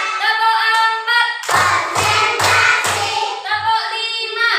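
A group of children clapping hands in a classroom patterned-clap chant, rhythmic bursts of claps over a bright, steady musical backing, fairly loud.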